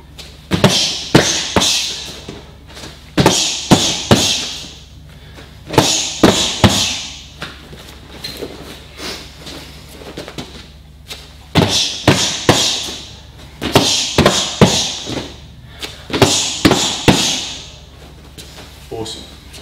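Headbutts strike handheld training pads in short bursts of sharp, close slapping thuds, three or four blows per set, with quiet pauses between sets.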